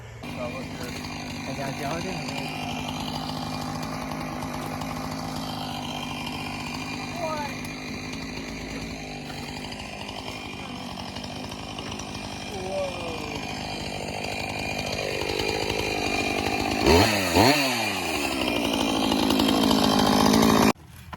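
A chainsaw drones steadily throughout while cutting up a fallen tree, its engine pitch rising and falling as it cuts, growing louder toward the end.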